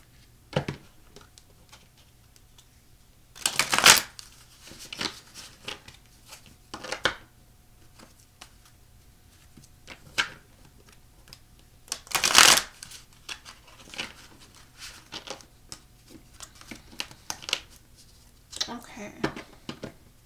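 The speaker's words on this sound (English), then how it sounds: "Let me just shuffle these a couple more times because I didn't do that before I recorded." Tarot cards shuffled in two brisk, close bursts, with lighter handling rustles in between and a quiet room around them.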